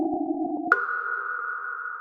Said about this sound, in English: What you're hearing is raw electromagnetic radiation data